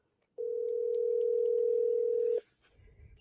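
A telephone dial tone while placing a call: a single steady, clean tone holds for about two seconds, then cuts off abruptly, leaving faint background rustle.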